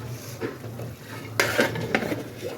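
A hot tawa griddle is set beneath a chicken biryani pot on a stove, giving a few metallic clanks and scrapes with faint sizzling in between.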